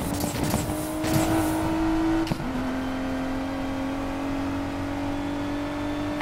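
A car engine in Need For Speed Payback holds a steady, humming drone under acceleration, with a brief shift in pitch partway through. The engine runs loud and close throughout.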